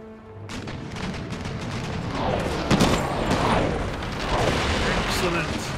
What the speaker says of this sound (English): Firing a couple of shots. Let me chase cannons.